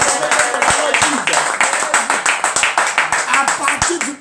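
A church congregation applauds for Jesus in a steady, loud burst of clapping from many hands, with sharp rhythmic claps standing out on top and voices mixed in.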